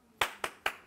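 People clap four times in quick, even succession during an Indian TV cast interview, the claps near and crisp with no speech.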